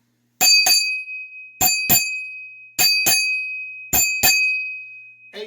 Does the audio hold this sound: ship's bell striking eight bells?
yes